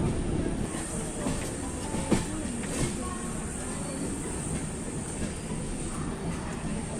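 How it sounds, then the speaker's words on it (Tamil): Passenger train running on the rails near Nagpur Junction, heard from inside a coach as a steady rumbling hiss with faint clicks and thumps, fairly quiet throughout. "இப்போ ட்ரெயின் எங்கே வந்திருக்குன்னு பார்த்தீங்கன்னா நாக்பூர் ஜங்ஷன் ஆல்மோஸ்ட் ரீச்சு"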